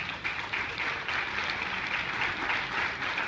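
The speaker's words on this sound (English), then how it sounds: "They all deserve a round of applause" Applause fills a board of education meeting, a steady, moderately distant wash of many hands clapping that carries on evenly for a few seconds.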